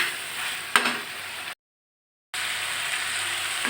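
Pumpkin pieces fry and get stirred in a pan, a soft steady sizzle with a brief scrape, cut by a short silent gap before the sizzling resumes.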